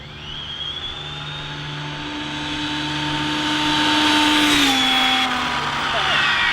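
An ARRMA Infraction 6S BLX RC car with a 27T pinion makes a high-speed pass down a street, its electric motor whine rising steadily in pitch and loudness, then dropping sharply as it passes close by.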